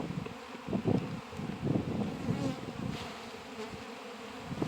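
Honeybees, including drones, buzz around an opened hive colony with laying workers, a close, steady droning hum with fluctuating swells as insects pass the microphone, alongside light wind.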